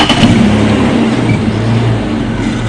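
A safari jigger vehicle at Djuma Game Reserve drives off with its engine giving a steady, loud, low rumble from close by, with no voices.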